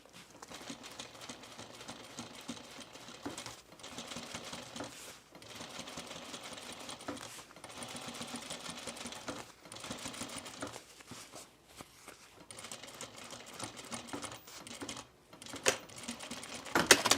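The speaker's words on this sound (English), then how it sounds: "Nothing like hearing that size 18 needle" Home sewing machine fitted with a size 18 needle stitching in the ditch on a bomber jacket, running in steady rapid bursts separated by short pauses, close and fairly loud with no talking.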